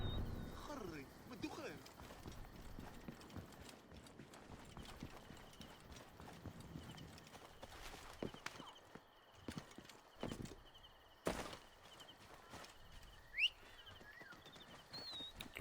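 Horse hooves clip-clopping in a steady galloping rhythm in a video game, moderately close, with ambient game sounds and occasional louder thumps, and a voice speaking over parts of it.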